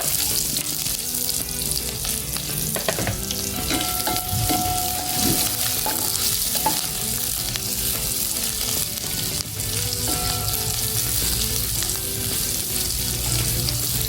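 Onions sizzle steadily in a hot pan for a sayote con carne dish, a continuous close frying hiss with occasional stirring scrapes throughout, no voices.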